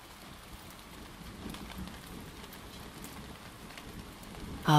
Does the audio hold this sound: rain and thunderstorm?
yes